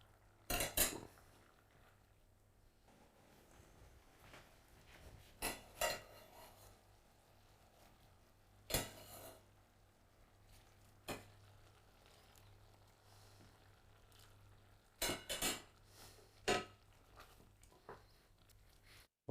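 A spoon stirs asparagus risotto in a pot, producing scattered scraping and clinking strokes in short bursts with quiet gaps between them, fairly faint overall.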